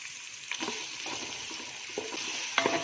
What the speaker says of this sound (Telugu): ఆనియన్ పచ్చిమిరపకాయలు శుభ్రంగా వేగిపోయాయి